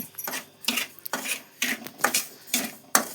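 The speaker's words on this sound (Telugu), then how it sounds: "రవ్వ దోరగా వేయించాలండి." Semolina (rava) being dry-roasted in a pan for rava coconut laddu, with a spoon scraping and stirring in repeated rhythmic strokes, about six or seven close, crisp scrapes with short gaps.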